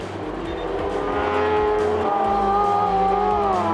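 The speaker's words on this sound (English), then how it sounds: "Beautiful flame-belching GSXR 1000 engine" A racing sidecar outfit powered by a Suzuki GSX-R 1000 engine screams past at a Magny-Cours championship race, a loud rising and falling engine whine at speed under a commentator's voice.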